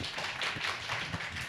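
A church congregation at a Sunday worship service breaks into applause, a fairly faint, continuous wash of many hands clapping.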